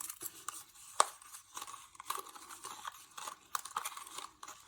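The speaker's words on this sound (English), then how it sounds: "And then I am going to start to stir." Stirring a messy mud-bug craft mixture, with scraping, crunchy clicks and soft sloshes in uneven bursts close by, including one sharp tap, and no talk.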